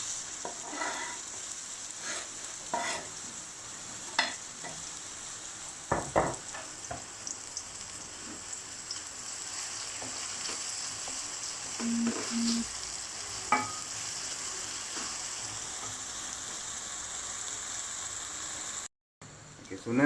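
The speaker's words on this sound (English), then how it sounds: "So first you fry the onions." Onions frying in a pot for black pepper mutton curry give a steady close sizzle with intermittent scraping stirs and clinks, a short dropout near the end.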